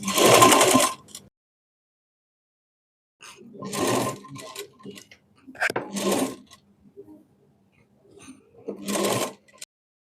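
A sewing machine stitches the cut-work shape on a double cut-work blouse piece in short separate runs, each a loud burst of a second or so with quiet pauses between them.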